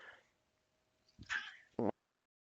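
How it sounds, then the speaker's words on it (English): A house cat meows twice in quick succession, the first call drawn out and the second short and loud, close to the microphone with a quiet room around it. "my cat's tripping"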